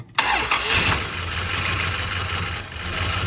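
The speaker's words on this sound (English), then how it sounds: "Listen to that happy little valve clatter." A 1971 Dodge Charger Super Bee engine fires, then idles loud and near with a steady, even rumble and a light ticking valve clatter running through it, with no voices.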